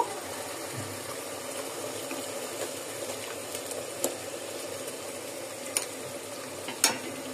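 Blended onion and tomato paste fries in oil and is stirred in a pan, a low continuous sizzle with occasional sharp clicks of the spoon on the pan, close and quiet.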